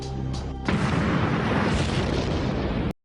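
A powerful explosion set off against a vehicle erupts suddenly after a brief tone, becoming a loud, sustained roaring rumble that cuts off abruptly.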